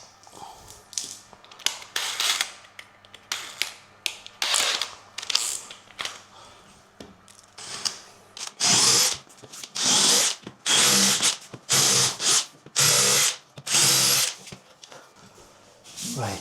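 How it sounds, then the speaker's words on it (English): A power drill countersinks holes in wooden staircase parts in repeated short bursts of whirring and grinding. The bursts come sparsely at first, then grow louder and more frequent toward the end. "Countersink."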